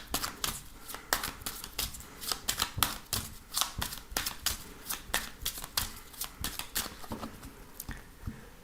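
A deck of oracle cards is shuffled by hand in a quiet room, producing a rapid series of close, crisp riffling and slapping bursts in an uneven rhythm, with no talking.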